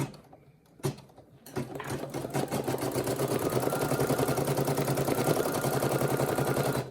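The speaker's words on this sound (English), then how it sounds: "you're going to go ahead and you're going to just hit embroider" A Brother SE1900 embroidery machine stitching a pouch starts after a click and a few taps, then settles into a steady, fast, close mechanical whir with an even rhythmic needle chatter.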